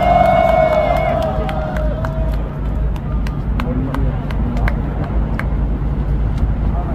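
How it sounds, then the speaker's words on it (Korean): An outdoor candlelight rally crowd in Korea gives a speaker a welcome. A voice cuts through first, then scattered sharp claps and cheering rise over a steady background rumble of street traffic. "큰 박수 함성으로 모셔보겠습니다."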